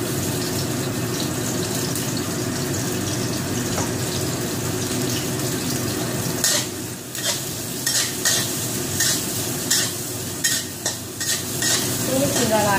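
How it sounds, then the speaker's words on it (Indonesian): Shallots being stir-fried in a little oil for savory rice, a steady loud sizzle with scraping and clattering of the spatula growing busier in the second half, no talking. "lalu tumis, masukkan bawang merah"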